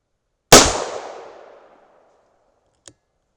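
A single loud .38 Special +P revolver shot with a 125-grain Hornady XTP bullet cracks close by and rings out in a long decaying echo, followed by a faint metallic click.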